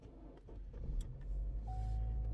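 A car is started: a low engine rumble swells and settles into a steady idle, with a faint thin whine partway through and some light clicks before it.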